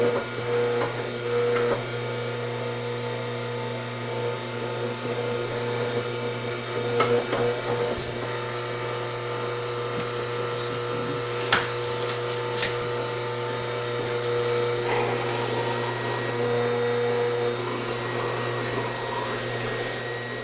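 Juicer grinding lemon, ginger and turmeric, a steady motor whir that continues at moderate loudness, with small rattles and a couple of brief louder clatters.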